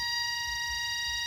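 A steady, shrill insect drone with several sustained high tones from a large cicada two to three times normal size, continuous and unbroken throughout, fairly close, with a faint low rumble underneath.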